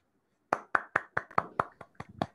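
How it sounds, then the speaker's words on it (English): Sparse clapping from a lecture audience after an astrophysics talk: about ten separate, sharp claps spaced roughly evenly over two seconds, fairly close and clear with no talking. "please join me in a round of applause for our speaker"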